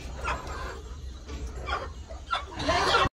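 Several soft clucks from brooding hens sitting on eggs come in short bursts over a low background rumble, fairly close, with no talking.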